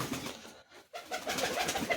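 Pigeons coo in a low, soft, throaty rumble, the sound breaking off briefly partway through and then resuming, close by with no talking.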